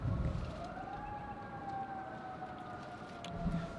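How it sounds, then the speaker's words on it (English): Faint emergency vehicle sirens wail steadily in the distance, their pitch slowly rising and falling over a soft outdoor hum by a river, with no voices nearby. "You can probably hear those sirens in the background."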